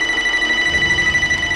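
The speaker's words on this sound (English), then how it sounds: "your phone rings." Phone ringing in a horror comedy film: a steady electronic ring tone held continuously, fairly loud, over a low pulsing background.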